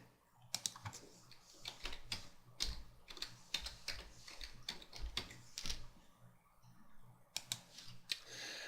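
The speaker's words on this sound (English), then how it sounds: "So I'm going to type that into my Internet Explorer address bar and hit go." Someone types an IP address on a computer keyboard, a quick irregular run of close, faint key clicks with brief pauses between strokes.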